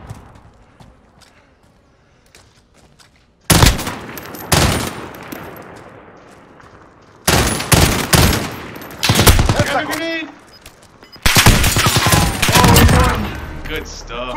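Loud bursts of rapid gunfire from Call of Duty Modern Warfare come in several separate volleys with quieter gaps between them, mixed with game sounds.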